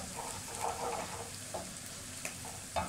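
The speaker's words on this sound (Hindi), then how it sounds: "सिर्फ मैं इसको एक मिनट तक इसी तरह पकाऊंगी और चम्मच हिलाती रहूंगी" Garlic paste sizzling steadily in a pan as a spoon stirs it, with a continuous frying hiss and a few soft scraping taps of the spoon, close and without speech.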